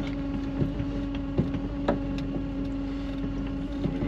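A Vanagon engine idles roughly and unevenly in extreme cold as the clutch is let out, holding a low hum with faint mechanical ticks and knocks.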